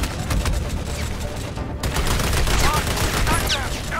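Machine gun fire in the Xbox game Army of Two, heard as a dense, loud, continuous rattle of rapid shots with a brief dip partway through, with no talking over it.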